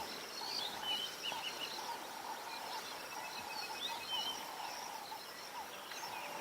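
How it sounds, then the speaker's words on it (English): Wild birds calling at sunrise on an African safari where vultures are landing, with layered chirps and whistles overlapping steadily throughout at moderate distance, set against faint background ambience and no talking. "there's some beautiful bird calls happening regardless"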